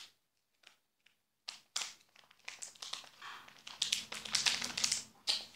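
Crinkling plastic of a sachet being torn open rustles close by, starting with a few faint taps, then building into dense crackling and tearing-like crinkles.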